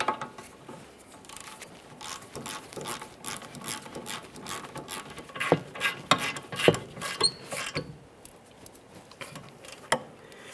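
A hand ratchet snugs the wheel hub mounting bolts on a 2012-2015 Honda Civic, giving quiet, irregular clicking bursts close by with no talk.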